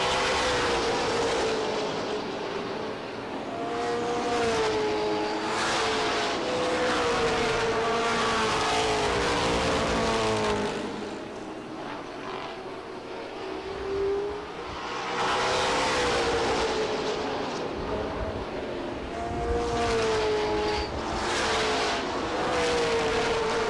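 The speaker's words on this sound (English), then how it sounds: "And they race down the front stretch now." Pro stock race cars roar past on the front stretch of Lee USA Speedway during a 1993 heat, loud engine drones rising and falling as the field sweeps by in waves, with no talk.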